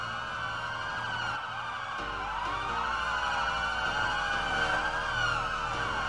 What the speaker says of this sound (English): So everyone turn your sirens on.